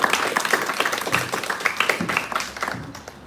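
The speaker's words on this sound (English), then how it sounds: "join me in welcoming with a warm round of applause, Holly George." Dense clapping from an audience, a continuous wash of many hands applauding at a steady level.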